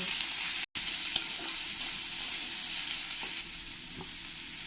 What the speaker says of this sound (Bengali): এবার আমি এই পেঁয়াজটাকে ভালো করে আমি লাল লাল করে ভেজে নেব